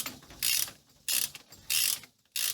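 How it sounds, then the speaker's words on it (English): A torque wrench ratcheting on differential carrier cap bolts of a truck: four quick bursts of clicking at an even rhythm, close and crisp, separated by short pauses, with no voices. "Whatever the specs are on these carrier caps, you need to torque it with a torque wrench."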